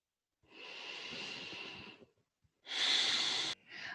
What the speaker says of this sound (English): Taking 1 to 2 breaths here.